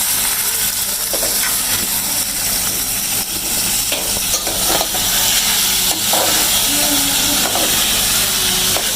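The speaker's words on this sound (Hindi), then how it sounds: "कलेजी पोटे डालेंगे।" Chicken liver and gizzards sizzle steadily in a hot pan of curry, with scraping and clinking of a stirring spoon against the metal throughout, close and continuous.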